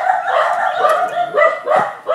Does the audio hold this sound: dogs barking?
yes